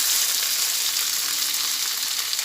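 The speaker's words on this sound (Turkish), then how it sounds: "Şöyle hemen hızlıca karıştırıyorum." Vermicelli and rice are stirred in hot fat in a pot for chickpea pilaf, giving a continuous bright sizzle with a steady hiss and no voices.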